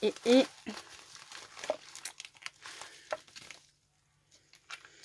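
A bubble envelope being unpacked, with loud paper crinkling and tearing bursts at the start followed by softer rustling handling noises, while someone talks over it.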